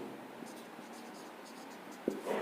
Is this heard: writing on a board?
yes